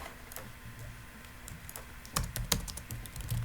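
Typing on a computer keyboard while writing simple website code, a steady run of light close key clicks with a few louder keystroke clusters toward the end, no voices.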